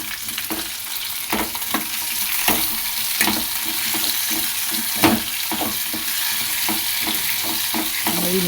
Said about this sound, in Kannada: ಹಾಕ್ಕೊಂಡು ಈ ಮಸಾಲೆಗೆ ಅಂತ ಕಟ್ ಮಾಡಿ ಇಟ್ಕೊಂಡಿದ್ನಲ್ಲ ಅದನ್ನೆಲ್ಲ ಹುರ್ಕೊತಾ ಇದ್ದೀನಿ.